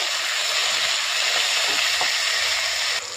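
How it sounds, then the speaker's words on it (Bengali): Eggplant pieces fry in hot oil in a pan, a loud, close, continuous hiss of sizzling with a couple of faint clinks, easing slightly in the last moment. "এবারে আমি বেগুনগুলো ভেজে নেব।"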